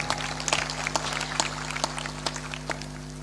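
Thin, scattered claps from a sparse audience at a Hindi discourse, a few sharp hand strikes spaced unevenly over a steady electrical hum, soft and somewhat distant.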